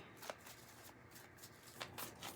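A deck of tarot cards is shuffled close by, quiet papery riffles and a few brisk flicks in short bursts, with no talking.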